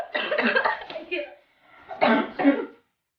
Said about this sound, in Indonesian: Batuk saya guys.